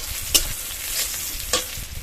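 Chopped garlic and chilli fry in a pan for a breakfast dish, a steady soft sizzle broken by two brief scraping stirs.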